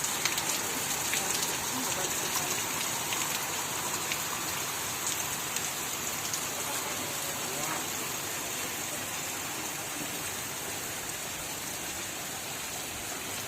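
Heavy monsoon rain at the Matheran hill station, a dense, steady hiss of downpour throughout, with a voice speaking faintly beneath it.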